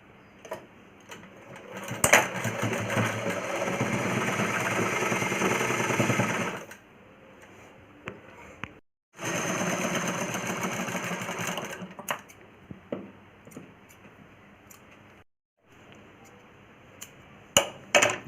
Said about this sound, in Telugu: ఇలా ఫోల్డ్ చేసినాక ఇంకో స్టిచ్ వేసుకోవాలి.